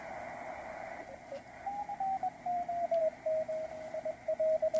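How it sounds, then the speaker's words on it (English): A ham radio carrier tone on an Icom IC-7300 wavers and pulses in short bursts over a soft background hiss, fading in and out between two speakers. "You can hear the signal fade in one speaker and come in on the other."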